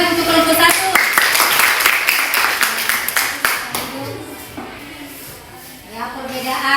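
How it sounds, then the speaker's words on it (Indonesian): Students in a classroom applaud a student group with a dense burst of clapping that fades after a few seconds as a voice begins talking over the room noise. "Tepuk tangan untuk kelompok 1."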